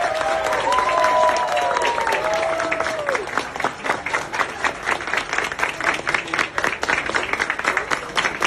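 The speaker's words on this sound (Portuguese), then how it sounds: "foi aplaudido pelos servidores" A crowd applauds steadily, dense clapping that continues throughout, with a few voices calling out briefly near the start.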